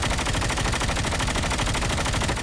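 Sustained rapid automatic gunfire from COD Mobile, loud and continuous with a fast even rhythm throughout.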